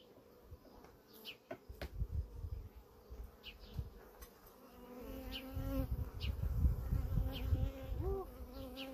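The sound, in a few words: honeybees buzzing during hive inspection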